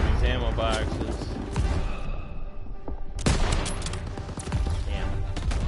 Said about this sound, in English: Grab a scoped rifle and take out those guns.